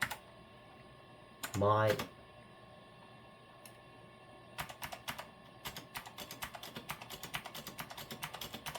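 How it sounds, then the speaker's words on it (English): Keys on a keyboard of an old 486 computer are pressed in quick clicking bursts, the spacebar tapped repeatedly in an uneven run of close, sharp clicks, with a brief spoken word early on. "The spacebar is working perfectly now."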